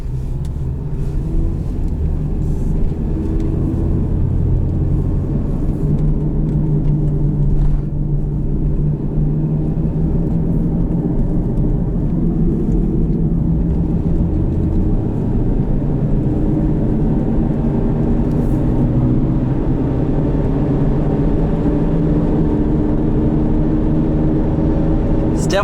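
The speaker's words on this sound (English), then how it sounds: "Definitely got a wheel bearing on the way out. But it just kind of sounds like a 737 at full tilt on takeoff" A 2008 Subaru Outback automatic with about 198,000 miles and a failing wheel bearing cruises along, filling the cabin with a loud, steady low drone and road rumble that holds unbroken the whole time.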